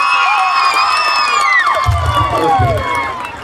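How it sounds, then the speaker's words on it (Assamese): A village crowd at an outdoor local gathering in Dibrugarh, Assam breaks into loud, close cheering and shouting with children's voices, rising and falling over a few seconds. "আপোনালোকৰ গাঁওখনৰ একতাৰ বাবে এটা হাত চাপৰি বিচাৰিছোঁ"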